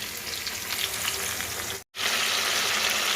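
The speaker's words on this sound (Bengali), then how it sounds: "আলুটা ভাজতে বসিয়ে দিয়েছি আর এখানে কিন্তু আরও ধোকা ভাজা হচ্ছে" Potatoes and dhoka, Bengali lentil cakes, frying in oil, a dense steady sizzle close by, broken once by a brief silent gap before resuming as loud as before.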